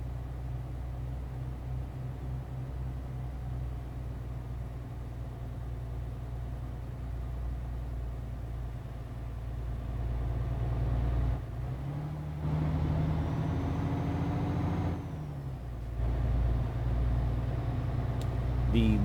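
MAN TGX truck in Euro Truck Simulator, a steady low diesel drone throughout, with a brief shift in engine pitch midway as the truck drives on.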